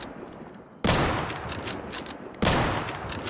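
Two loud, sharp Mosin rifle shots in the Deadside survival shooter, spaced about a second and a half apart, each with a long rolling echo tail and no talk over them.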